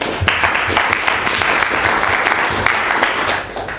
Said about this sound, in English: So please a big applause for Michele Marchesi.